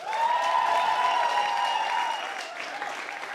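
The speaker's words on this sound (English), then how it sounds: "Please make some noise for Waweru Mbuthia." Studio audience at a televised debate show bursts into sustained applause with cheering, a dense continuous wash of clapping that holds steady for several seconds before easing slightly.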